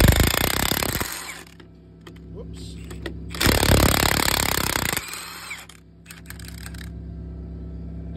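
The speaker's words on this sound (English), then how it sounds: "lug nuts are ejecting from the socket a lot better when I use the high torque instead of the mid torque." A Milwaukee M18 high torque impact wrench removes lug nuts in two loud, hammering bursts of about a second each, with quieter clinks and handling noise between and after them.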